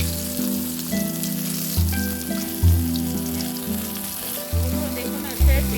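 Chopped onion and green chili sizzle steadily in hot oil in a pan for hilsa fish, a dense continuous frying hiss with periodic soft scrapes and stirs of a spatula.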